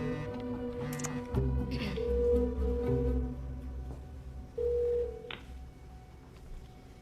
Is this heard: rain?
no